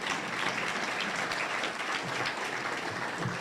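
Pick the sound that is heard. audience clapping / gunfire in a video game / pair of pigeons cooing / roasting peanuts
audience clapping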